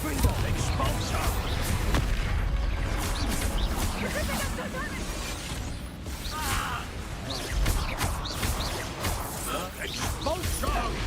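Repeated Confringo and Expulso spell blasts in Hogwarts Legacy crack and crash through a dense, continuous stretch of combat noise, loud throughout, with several sharp impacts spread across the passage and a voice speaking over them.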